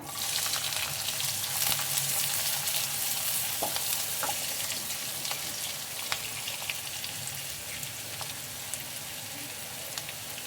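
Onions frying in a pan toward golden brown, giving a steady, dense sizzle with occasional small pops and stirring clicks, close and continuous with no talking.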